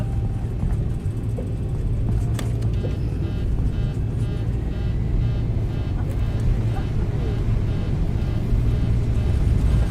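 A Boeing 737 (Zibo model) in X-Plane holds a steady, loud jet engine roar at takeoff thrust on the runway at Naval Air Station Pensacola, with a constant low rumble throughout and voices over it.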